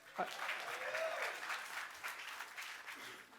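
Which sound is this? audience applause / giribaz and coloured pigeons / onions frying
audience applause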